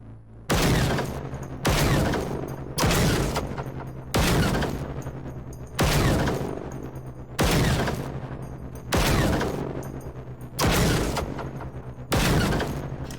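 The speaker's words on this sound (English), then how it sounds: "that's a launcher and a machine gun" Heavy automatic fire from a military-class robot in Generation Zero: about ten loud, evenly spaced bursts roughly every second and a half, each a sharp blast trailing into rattling echo, with no talk.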